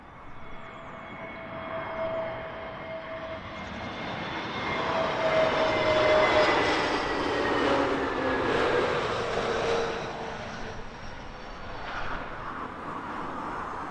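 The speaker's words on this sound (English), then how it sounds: "Next touchdown here on runway 27 left at Heathrow Airport is the British Airways shuttle heading down, short trip down from Newcastle." A British Airways shuttle jet from Newcastle lands on runway 27 left at Heathrow, its engine roar swelling from a steady whine to a loud, broad rush overhead, then slowly fading away, with no voices.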